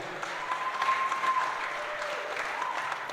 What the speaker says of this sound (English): a good round of applause should be given to Mr. Joshua Nagar